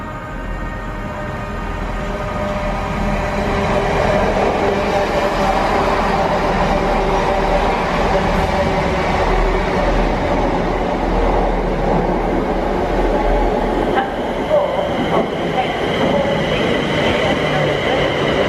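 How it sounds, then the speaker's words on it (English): An empty passenger stock train rolls through Ealing Broadway station on its way up to Reading, a loud, sustained rumble with low drone and wheel noise that builds and holds close by for the whole stretch, with a voice speaking over it. "This looks like empty passenger stock going up to Reading"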